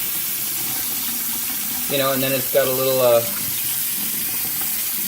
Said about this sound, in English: That's your hot water right now running, which is the one that was clogged.